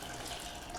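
Water is poured into a pot of milk for kodumai payasam, a short, steady splashing rush heard up close and alone.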